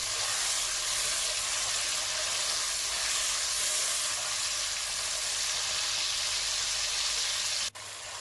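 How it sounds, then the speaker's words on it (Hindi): Ginger garlic paste frying in oil for a chicken karahi, giving a steady, loud, continuous sizzle and hiss that holds evenly throughout before cutting off briefly near the end. "अदरक और लहसुन के पेस्ट को तकरीबन 3 से 4 मिनट तक ऑयल के अंदर भूनेंगे"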